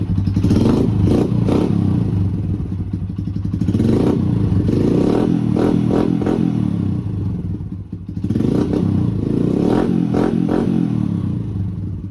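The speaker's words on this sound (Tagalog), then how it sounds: "Tambutso, medyo maingay." A motorcycle with a noisy exhaust revs up and down close by, its loud engine rising and falling in repeated throttle blips, with some clattering mechanical noise.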